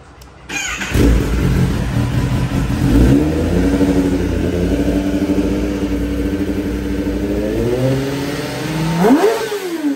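A Kawasaki ZX-10R superbike fitted with a new aftermarket exhaust fires up and revs. The engine holds a loud, close, throaty drone, climbs and dips in pitch, then swells into a sharp rev near the end.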